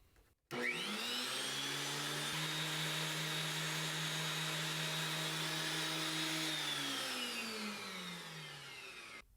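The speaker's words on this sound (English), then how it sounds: "Nobody has ever bought a wood planer based on noise level, but I'm curious." Loud machine whine as a FindBuyTool FB131H helical wood planer spins up and runs steadily about 30 inches away, a harsh high-pitched roar that winds down at the end.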